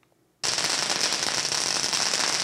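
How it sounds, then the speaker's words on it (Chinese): A string of firecrackers goes off outside a lottery shop in Kaohsiung to celebrate back-to-back prize wins, starting abruptly and crackling as a dense, loud, unbroken volley. "业者在彩券行门口点燃鞭炮，庆祝连续两天开出100万奖项"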